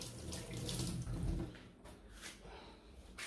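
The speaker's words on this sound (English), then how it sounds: "I need to make use of this hand, so I'll wash it now" A hand is washed under a running tap: water streams and splashes steadily into a sink, with a heavier gush midway, close and fairly quiet.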